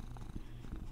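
A cat purrs close up, a low continuous rumbling with a soft rhythmic pulse and no other sounds.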